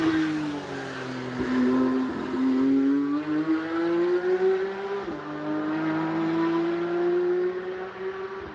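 Race car at the Nürburgring working through downshifts and upshifts, engine note rising and falling steadily with brief breaks at gear changes, heard at moderate distance without talk.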